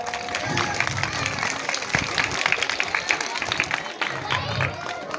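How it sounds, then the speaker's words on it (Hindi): An audience at a village social function in Mirzapur claps to welcome a guest onto the stage, uneven mid-level applause with scattered sharp claps and some crowd murmur. "तालियों से स्वागत।"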